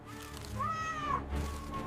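A small kitten trapped in bushes gives one drawn-out, rising-then-falling distressed meow at close range, with a fainter cry trailing after it over steady outdoor background noise.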